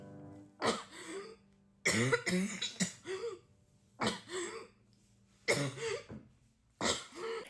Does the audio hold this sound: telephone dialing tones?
no